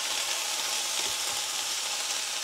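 Cut potato pieces fry in a pan for Southern-style fried potatoes, giving a steady, close, even sizzle with faint low knocks as the pieces get tossed; nobody speaks.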